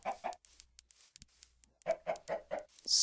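Chickens in the Minecraft video game cluck in quick bursts, a pair at first, then a rapid run of four or five close clucks after a quieter gap.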